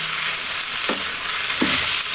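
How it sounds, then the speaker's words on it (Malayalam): Chicken roast sizzles and fries steadily in a pan as curry leaves go in, with two short stirring scrapes standing out over the constant hiss. "ഇനി നമ്മളതിലേക്ക് കുറച്ചും കൂടി കറിവേപ്പില കൂടി ഇട്ട് കൊടുക്കുന്നുണ്ട്."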